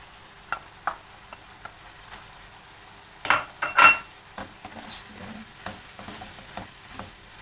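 Grated onions fry and sizzle in a pan with cooked minced meat for gözleme filling, with steady hissing and a few louder scraping stirs in the middle, no voices.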